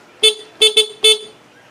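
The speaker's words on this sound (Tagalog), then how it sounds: "stock horn" A stock Suzuki Burgman scooter horn honks four quick times, a bright nasal beep in an uneven pattern, close and loud against a quiet background.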